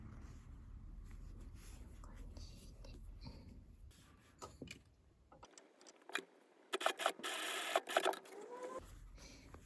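A sewing machine stitches patchwork fabric in short bursts of rapid, close mechanical whirring, starting and stopping between quieter handling sounds, while a person talks softly.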